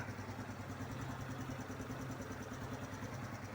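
A car engine idles steadily after being started during a vehicle inspection, a continuous low rumble with a faint rhythmic pulse and hiss, moderately close and unbroken, with no voices.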